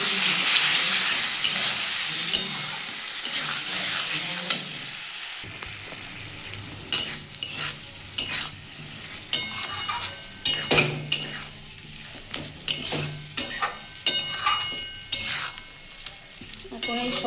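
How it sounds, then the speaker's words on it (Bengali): Potato and parwal stir-frying in a pan with chili powder, turmeric and a splash of water: a loud hiss at first, then a lower steady sizzle broken by frequent sharp scrapes and knocks of a spoon against the pan, close up. "1 চামচ লঙ্কার গুঁড়ো, পরিমাণ মতো হলুদ, সামান্য একটু জল নিয়ে আমি এটা কষিয়ে নেব"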